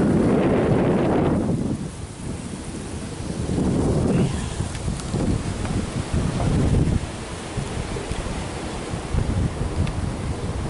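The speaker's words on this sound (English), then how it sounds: "It's really windy outside." Strong wind buffets the microphone outdoors in heavy gusts, loud rumbling bursts rising and falling with no voices.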